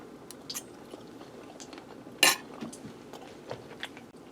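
A knife and fork work through a balsamic glazed pork chop on a plate, with light taps and one bright clink of metal on ceramic midway, quiet and close, no talking.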